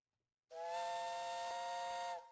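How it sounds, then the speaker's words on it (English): A steam whistle blows one long, steady, bright multi-tone blast of about two seconds, starting abruptly after silence and cutting off cleanly, alone with no voices. "I bet you're glad we got that whistle back"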